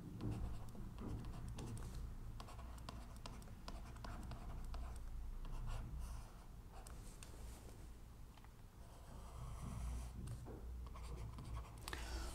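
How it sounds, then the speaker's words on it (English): Pen or marker scratches out a math equation for quadratic solutions, a steady close scratching of strokes and taps with brief pauses, alone without talk. "let me write it in this manner."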